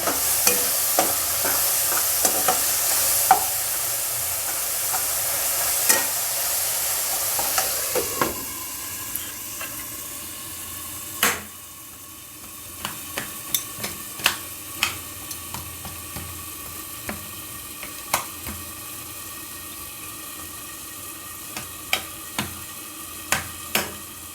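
Food frying in a pan is stirred, with a bright sizzle and hiss that settles down, punctuated by sharp scraping and clicking knocks of the utensil against the pan.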